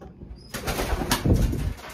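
Racing pigeons in a loft give a short burst of close cooing and flapping after a quiet half second, with no talk over it.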